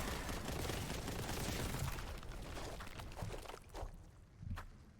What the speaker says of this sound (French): Ça commence à nous tirer dessus direct.